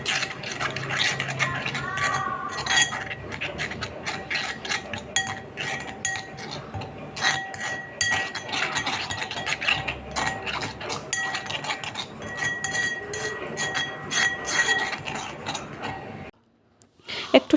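A spoon scrapes and clinks against a bowl as ground spices, coriander, cumin and salt, are mixed in a kitchen, in rapid irregular metallic taps that continue steadily before stopping abruptly.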